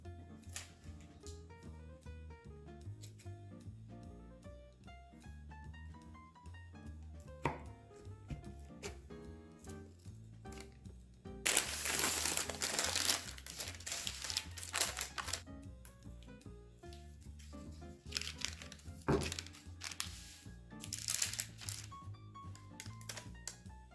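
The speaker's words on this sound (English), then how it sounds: "these to cool and to cut into this magical deliciousness" Low carb 7 layer magic bars are cut into pieces, with repeated knife chops and crunchy crackling bursts close up over soft background music, no talking.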